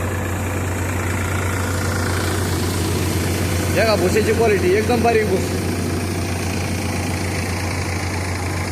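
Sonalika RX50 tractor powering a Punjab-made 990 threshing machine, its engine holding a steady, even drone throughout while someone talks briefly in the middle.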